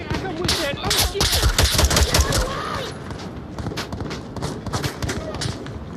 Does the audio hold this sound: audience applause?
no